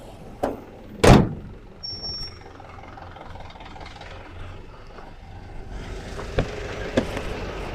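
A Mercedes S500 W140 car door shuts with one solid, heavy thump early on, surrounded by quieter clicks, handling knocks and a light background hiss.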